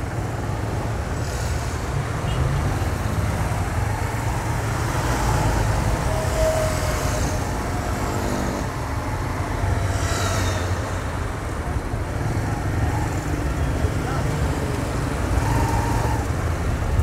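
Steady road traffic in Natal, Rio Grande do Norte, with cars queuing near a bridge and motorcycles weaving through. A continuous engine rumble and tire noise go on throughout with no voices.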